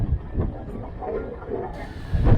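The historic cable-hauled Great Orme funicular tram climbs uphill in Llandudno, a low rumbling and clanking of wheels and mechanism with a few heavier thumps near the end.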